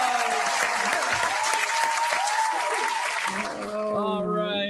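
A round of applause from a small group, brisk clapping under overlapping talk and exclamations, fading as voices take over near the end.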